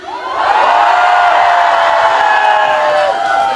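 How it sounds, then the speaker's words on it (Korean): A big outdoor crowd at the Yecheon insect festival concert roars and cheers loudly as one sustained shout, swelling in and holding for several seconds. "자 우리 지금 현재 예천에 살고 계신 분들 함성"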